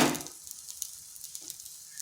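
Chakli pitha, a thin rice-flour snack, frying on low heat gives a soft, steady sizzle with small crackling pops throughout and no voices.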